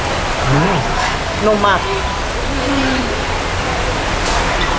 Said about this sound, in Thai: วันนี้ฝนตกถ้ามีเสียงฝนขออภัยนะคะ